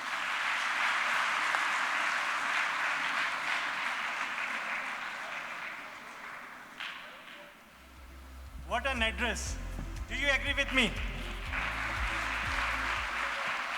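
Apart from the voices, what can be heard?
audience round of applause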